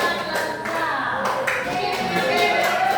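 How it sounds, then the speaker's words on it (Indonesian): Students applauding together in a classroom, a steady close patter of many hands clapping for a few seconds, with some faint voices mixed in. "Ya, tepuk tangan."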